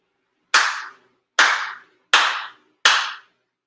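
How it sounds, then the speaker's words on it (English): Four sincere ceremonial hand claps with the head officiant at a monthly ceremony, sharp and evenly spaced, each ringing briefly in a quiet room, no talking. "4 sincere claps along with the head officiant"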